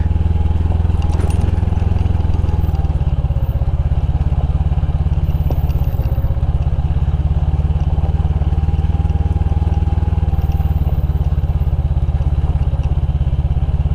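Converted motorcycle engine droning steadily on a dirt trail toward a campsite, a loud close buzzing rumble with occasional rattles and clatter from the bike over rough ground.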